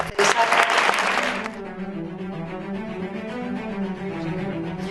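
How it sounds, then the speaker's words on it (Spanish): Audience applause at a Spanish information day, loud and dense for the first second and a half, then fading into quieter scattered clapping and a murmur of voices. "Un aplauso, porque sí que es verdad."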